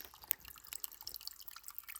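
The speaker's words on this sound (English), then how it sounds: "Can you hear that water running?" Spring water trickling out from under a rock on farmland, a faint, continuous patter of small drips and splashes, quiet and slightly distant with no voices.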